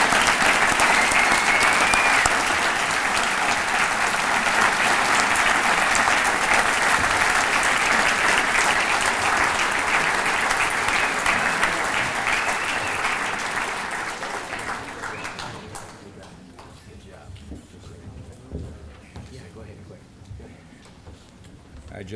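Audience applause at a hall of fame ceremony, a dense sustained clapping from a large crowd that holds strong for about fifteen seconds, then fades out to quiet room tone.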